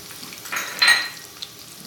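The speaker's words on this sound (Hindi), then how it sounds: "इसमें सफ़ेद जीरा डाल रही हूँ साबुत 1 टीस्पून" A teaspoon of whole white cumin seeds tipped into a pot with onions gives a short, sharp sizzle and a clink of the pot, then fades to a soft, low hiss.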